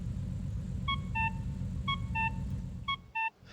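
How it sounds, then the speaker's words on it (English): A Mexican traffic light car horn in the video game Forza Horizon 5 plays a short melodic tune of clear beeping tones in several quick groups over a low engine rumble. "the Mexican traffic light car horn, which sounds a bit like this"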